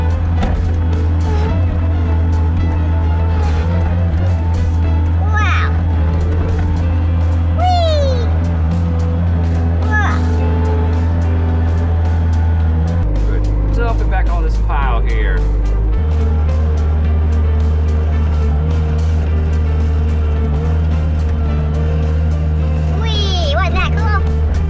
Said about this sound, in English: here he comes bringing the load in the bucket on over, and now he's gonna dump it in the dump bed